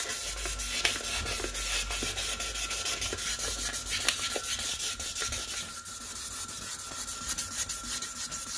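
Waterproof sandpaper scrubbed steadily against limescale inside a toilet bowl, a continuous close rasping rub with small rhythmic strokes and no talk.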